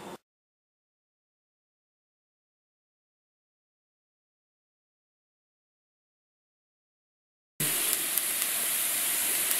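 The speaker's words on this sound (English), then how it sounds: "As soon as the broccoli has boiled for 2 minutes, drain the broccoli in a strainer and set aside" Boiled broccoli draining into a strainer, a steady rushing hiss of water pouring that starts abruptly after a long silence and continues to the end.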